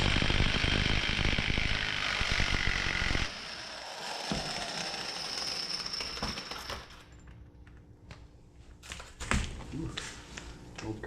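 A power tool, likely an impact wrench, spins a 32 mm nut off a 2004 Ford Escape 3.0 in a loud, dense burst for about three seconds, then drops to a quieter rattle with scattered metallic clinks and clatter.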